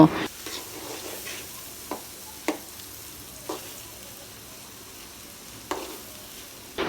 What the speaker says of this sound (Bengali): ভাজা হয়ে গেলে এতে ধনিয়া পাতা দিয়ে আর একটু নেড়ে নামিয়ে নিব।